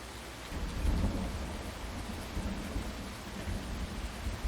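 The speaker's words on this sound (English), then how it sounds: "But yeah, listen to that thunderstorm." Thunderstorm with steady rain in the farming game Felsbrunn: a deep rolling rumble of thunder swells early and fades under a constant hiss of rainfall pattering on surfaces.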